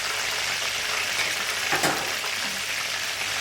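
Cinnamon sticks, cloves and cardamom sizzle in hot oil for prawn biryani, a steady broadband frying hiss that runs the whole time, close and fairly loud, with a brief stir-like rustle near the middle and no talking.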